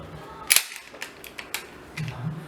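A 9mm pistol is handled and chambered, with a sharp metallic clack of the slide followed by a few lighter mechanical clicks and rattles, close and fairly quiet.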